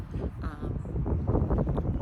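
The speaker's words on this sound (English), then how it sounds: "it's very windy out" Wind buffets a microphone outdoors in a steady, loud rumble with gusty rises and no talking.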